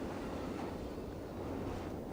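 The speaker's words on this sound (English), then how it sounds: "Oh, there's the train." A train rumbles past in the video game Black Ops Cold War, a steady broad roar with wind-like noise that holds throughout, fairly distant and even.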